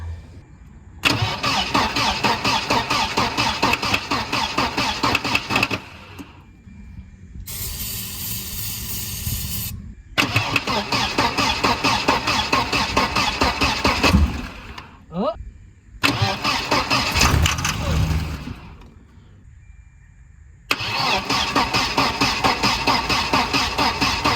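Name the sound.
1992 Volvo 940 wagon engine cranking and trying to start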